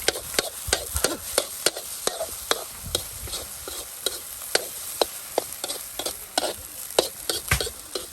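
An omelette sizzles in a frying pan while a utensil scrapes and taps the pan in a steady, repeated rhythm, close and fairly loud.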